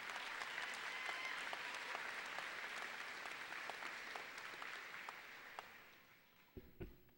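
Audience at a Salish Kootenai College graduation applauding steadily for several seconds, a full even wash of clapping that fades out near the end, followed by a brief thump and a voice.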